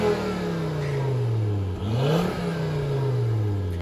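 A Japan-import Volvo V40 Cross Country's engine idles, then is revved up sharply and drops back to a steady idle, heard close with no talking.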